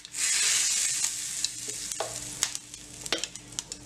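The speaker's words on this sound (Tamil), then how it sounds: "கறிவேப்பிலை போட்டு தாளிச்சாச்சு." Mustard seeds, urad dal, asafoetida and curry leaves sizzle loudly in hot oil as they are tempered for chutney. The steady frying hiss carries scattered sharp pops and crackles, with a spoon stirring close by.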